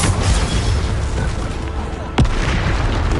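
Hogwarts Legacy Bombarda blasting spell, heard as a loud sustained booming over battle noise with a sudden sharp explosive crack about two seconds in, then continued rumbling.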